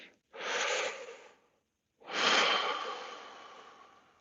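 Deep, slow breaths during a yoga lunge: one long airy exhale, a brief pause, then a second longer breath that tails off, close and fairly loud with no talking.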